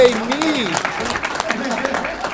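Members at a union meeting break into a short round of clapping, a dense spatter of hands heard under a person's voice that rises and falls over it.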